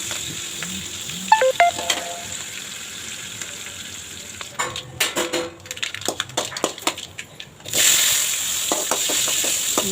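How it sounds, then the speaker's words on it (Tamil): Mustard seeds and curry leaves crackle and pop in hot oil, a busy sizzling with scattered spattering bursts, followed by a steady loud frying hiss. "இதெல்லாம் கொஞ்சம் நல்லா செவக்க வறுத்துட்டு நல்ல கடுகெல்லாம் பொரிஞ்சதுக்கப்புறமா"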